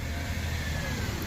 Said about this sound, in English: what have we got going through here? Oh, bin lorry.